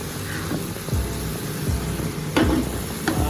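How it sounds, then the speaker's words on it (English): Food is stirred in a frying pan over steady sizzling, with a few scraping strokes of the utensil against the pan standing out near the end. "just give a nice little stir"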